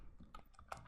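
Quiet computer keyboard typing while entering Python code: a few light, irregular key clicks across less than a second, with no voice present.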